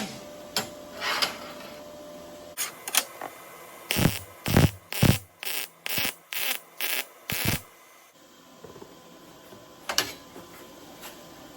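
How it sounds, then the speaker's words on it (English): Edges of a 1949–51 Merc body are welded in a series of about eight short, crackling bursts with brief gaps between them, close and fairly loud against a quiet shop background. "Now I'm just gonna weld up all the nasty ass freaking edges."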